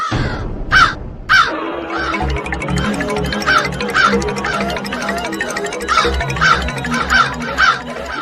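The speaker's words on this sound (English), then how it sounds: "It may sound like the natural cawing of a crow" Repeated harsh crow caws, several in a row at irregular intervals, loud and close over a steady low rhythmic background.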